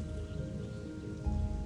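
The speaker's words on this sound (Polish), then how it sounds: "O kurde, ty, co się dzieje z deszczem" Steady rain falling in the video game Gothic 2, a continuous soft hiss of drops over a low hum, without talk.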